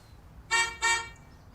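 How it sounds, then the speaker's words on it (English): Two quick car horn honks sound back to back, clear and fairly loud, with near silence around them. "Oh, that's the car horn."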